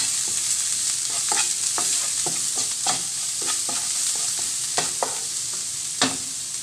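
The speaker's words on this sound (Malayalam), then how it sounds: "ഒന്ന് ഇളക്കി കൊടുക്കാം." Chicken pepper roast is stirred in a frying pan: a constant sizzle underlies repeated scraping strokes of the spoon against the pan, close and fairly loud, with no talking.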